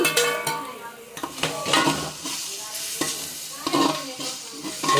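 Chopped tomatoes and mint frying in a pot for vegetable biryani at a street food stall, with a spoon scraping and clattering through the sizzling mix in repeated close strokes.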